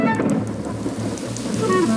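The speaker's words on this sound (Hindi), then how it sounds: "बारिश हो रही है विनी, भागो।" Rain falls in a Hindi-dubbed Oswald cartoon, a dense steady hiss of rainfall with low rumbling underneath and faint musical tones in the background.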